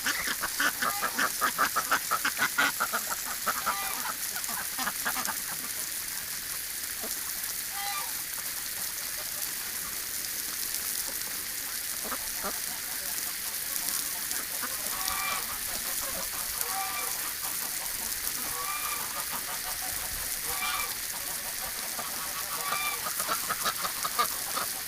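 Ducks and geese call repeatedly over a steady hiss of spraying water, with clucks and honks scattered near and far throughout in winter.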